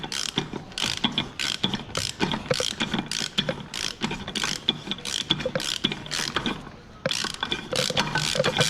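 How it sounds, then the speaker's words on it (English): A ratchet wrench clicks steadily while tightening a fastener during final assembly of an XRV204110, a rapid run of sharp pawl clicks in bursts with a brief pause near the end, close and fairly loud with no talking. "just tightening it up"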